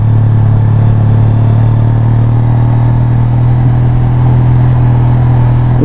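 Motorcycle engine holding a steady, loud low drone while engine braking on a concrete road, with constant rumble and wind throughout and no distinct rev changes.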